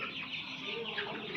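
Hybrid broiler chickens on a farm cluck in a brief, busy burst of overlapping calls, close and moderately loud.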